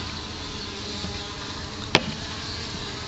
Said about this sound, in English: we've already seen bees coming in and out of the old caulking tube